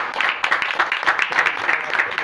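A church congregation clapping together in a strong, slightly rhythmic round of applause, close and sustained, with occasional louder claps standing out.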